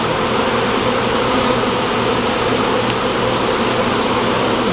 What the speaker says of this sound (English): There's a mess of bees in there.